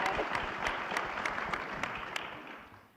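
Audience applause at an FBI press event, a dense continuous clapping that holds steady for a few seconds and then fades out near the end.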